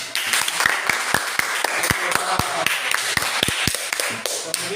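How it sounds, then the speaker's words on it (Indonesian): A class in an Indonesian school claps together, loose and uneven, with sharp individual claps standing out over a busy room. "Benar sekali, tepuk tangan dulu."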